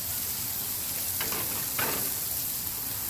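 Ribeye steaks sear on a Camp Chef 600 griddle, giving a loud, steady sizzle and frying hiss throughout, with two brief spatter bursts in the middle.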